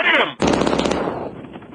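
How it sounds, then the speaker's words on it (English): After a brief tonal noise, a loud burst of rapid automatic gunshots bursts in close, rattling continuously for nearly a second and then trailing off into echoing noise. "I'm hearing the gunshots."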